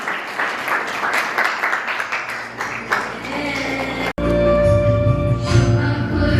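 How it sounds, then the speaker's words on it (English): At an inter-school declamation event, an audience claps to welcome the dignitaries. The crisp, fairly sparse handclaps last about four seconds before an abrupt cut into steady, tonal music. "Audience, please give a big round of applause to welcome our dignitaries."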